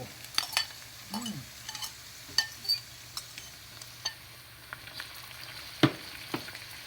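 Saltfish fries quietly in a pan, a soft sizzle broken by scattered clinks and stirring taps.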